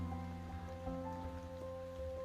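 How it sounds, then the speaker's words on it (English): Rain pattering steadily on a hiker's poncho on the Appalachian Trail near Marion, Virginia, a close, continuous patter with no voices. "It's been raining."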